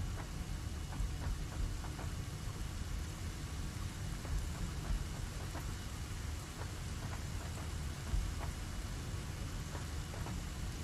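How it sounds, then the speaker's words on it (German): Rain falling in the video game Satisfactory, a steady soft patter with scattered drop ticks and a low rumbling bed, quiet and continuous. "Und es regnet."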